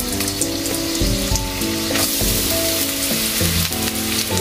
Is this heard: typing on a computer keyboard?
no